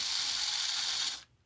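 A twin-chain drive on a small RC car model, run by two micro motors from a 3-volt battery pack, whirring in a steady, close, high mechanical rattle that stops abruptly after about a second.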